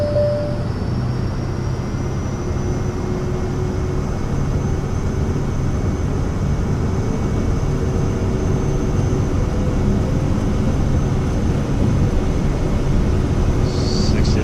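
A Cirrus Vision Jet G2+ single-engine jet at full power on its takeoff roll, a loud, steady roar and rumble with a thin high turbine whine running throughout, heard from inside the cabin.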